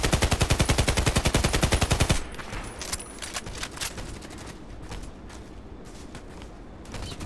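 An AK-105 rifle fires in Contract Wars, starting with a loud, rapid, evenly spaced automatic burst of roughly two seconds, then breaking into scattered shots and clattering gunfire that continues at a lower level.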